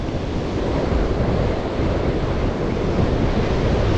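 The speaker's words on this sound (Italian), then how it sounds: "Il vento quello non molla mai." Strong, steady wind roars across the microphone over rough, heaving sea waves during a boat fishing trip on choppy water. The noise is loud and continuous throughout, and no one speaks.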